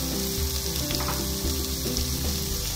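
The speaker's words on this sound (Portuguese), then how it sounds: "ele vai fritar até deixar ele mais crocante" Bacon fries in a pan with a dense, steady sizzle and crackle, close and loud throughout, with soft clinks from the pan and no talk.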